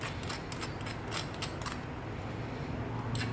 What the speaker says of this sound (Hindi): तो आपने सुनी इसकी आवाज़ से कितने क्रिस्पी और कितने क्रंची बन के तैयार हुए हैं।